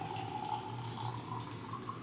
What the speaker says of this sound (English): I'm pouring myself a little coffee.